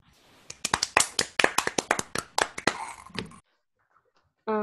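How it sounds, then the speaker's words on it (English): Clapping at a year-end celebration for Uncle Arthur and Auntie Sandra, a few hands in a quick, fairly loud run of distinct claps that stops abruptly, followed by a short silence and then a burst of other sound. "let's give another round of applause for Uncle Arthur and Auntie Sandra for their tireless leadership for so many years"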